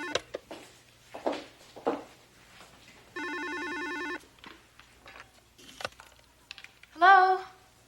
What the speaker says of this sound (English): the phone just started ringing.